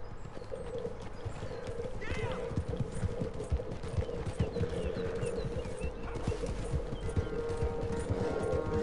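Horse hooves clip-clop steadily in Red Dead Redemption 2, a racing horse moving at pace over a continuous bed of game sound, with a talking voice over it.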